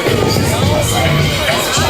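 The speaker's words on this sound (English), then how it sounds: "Now we got to fight through this crowd" A crowd at an outdoor off-road truck event fills the air with a dense, close babble of many voices and a few raised shouts, continuous and fairly loud.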